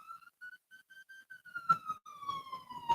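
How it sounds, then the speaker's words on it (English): A fire truck siren wails from a distance outside, a sustained tone slowly sliding downward as it passes, with faint clatter and rumble near the end. "No, that was a fire truck."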